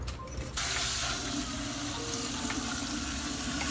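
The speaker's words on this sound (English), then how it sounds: "So I'm going to put on the pot now with some water, make it go and boil up." Water running from a tap into a cooking pot for goat soup in a home kitchen, a steady broadband rush that starts abruptly after a brief quiet moment and continues close and loud to the end, with faint clinks of metal.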